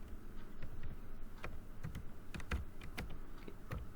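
Fast keystrokes on a computer keyboard during spreadsheet data entry in Excel, close and clear, with irregular clicks and several heavier taps like the enter key in between, no talking.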